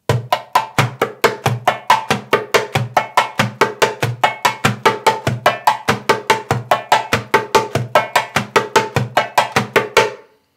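Dumbek (goblet drum) played in triplets with Turkish split hand technique, the thumb pressed into the head for higher tones. About forty crisp, evenly spaced strokes in a steady rolling rhythm, close and loud, with no voices.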